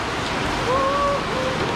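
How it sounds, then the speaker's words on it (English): Steady rain falling outdoors, producing a dense, even hiss throughout, with a brief faint tonal sound in the middle. "Oh, it's raining, folks."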